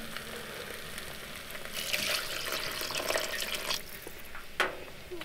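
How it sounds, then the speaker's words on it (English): Water is poured into a cooking pot at a winter camp inside a hot tent, a soft trickling splash that swells briefly in the middle and ends with a few drips and light clinks, fairly quiet and free of talk. "Gonna add in just a smidge of water."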